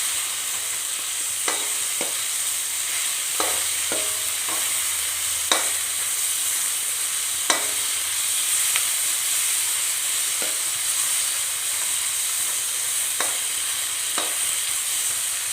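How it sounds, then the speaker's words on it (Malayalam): Chopped tomatoes fry and soften in a pan for a dudhi curry, giving a steady close sizzle throughout, punctuated by occasional sharp clicks and scrapes of a stirring utensil, with no voices. "തക്കാളി ഒന്ന് വഴണ്ട് കഴിയുമ്പോൾ"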